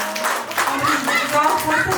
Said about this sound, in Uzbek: Guldiroz qarsaklar bilan Shirinaxonni yana bir bor tabriklab qo'yamiz.